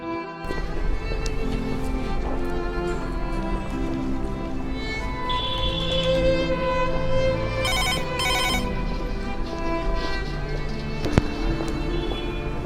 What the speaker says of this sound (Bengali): রিয়া, তুমি আমার ফোন তুলছো না কেন?